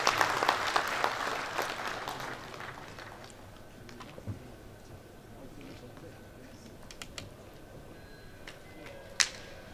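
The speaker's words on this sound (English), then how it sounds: "Let's give him another round of applause" Applause from an audience in a hall at a builders' conference opening ceremony in Nigeria, brisk clapping at first that dies down into scattered claps and room murmur, with one sharp knock near the end.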